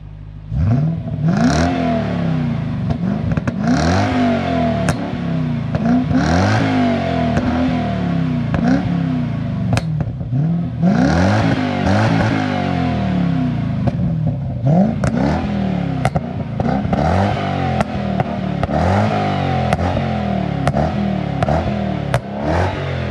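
A Lexus 3UZ V8, reflashed with a pops-and-bangs crackle tune, is revved over and over. Each rising, falling rev sweep is followed by sharp exhaust cracks and pops, loud and close, with no talking.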